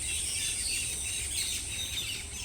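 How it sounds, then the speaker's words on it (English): Birds chirping high in a rainforest canopy, a busy, continuous layer of small calls and tweets at moderate distance over a low rustling background, no talking. "You can hear the birds chirping."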